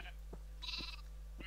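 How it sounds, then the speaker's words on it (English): Sheep bleat in the video game Minecraft, a short nasal baa in the middle over a low constant hum, with brief soft clicks around it. "I'm also probably gonna kill these sheep"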